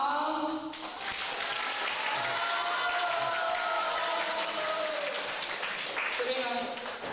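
A seated audience at a group presentation session claps and cheers as a group comes on stage: dense, steady applause with shouts mixed in, loud and continuous from start to finish.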